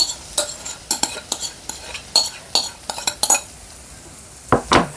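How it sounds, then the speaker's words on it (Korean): Mashed potato is stirred into rosé sauce and tomato ketchup in a pan, a rhythmic series of scraping, clinking utensil strokes over a faint sizzle, paused briefly near the end. "섞어줍니다."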